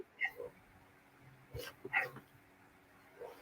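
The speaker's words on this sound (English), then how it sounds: "See, you got Mudgy and Mudding or Toby barking in there now" Several house dogs give short, faint barks and yips from a distance, in scattered bursts with quiet gaps between them.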